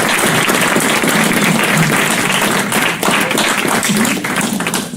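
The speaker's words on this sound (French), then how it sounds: "On les applaudit, il faut les encourager." Audience at a cider event in Les Moulins à Paroles applauding hard, a loud, dense and continuous burst of clapping with some thumping, sustained for the whole stretch.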